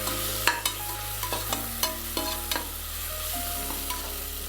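Ingredients sautéing in a pan for chickpea biryani, a soft steady sizzle marked by regular sharp scrapes and taps of a stirring spoon, close with a faint hum beneath.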